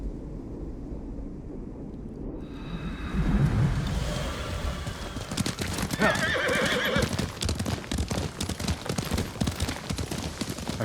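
Horse hooves clip-clop steadily as a rider travels in the samurai game Ghost of Tsushima, with a whinny near the start, then a continuous rhythmic gallop, loud and close, over rain-like ambient noise.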